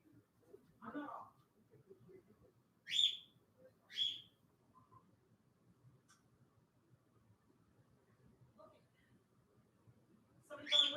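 Pet birds chirp indoors, with a few sharp, separate tweets spread across a quiet room and soft background noise between them.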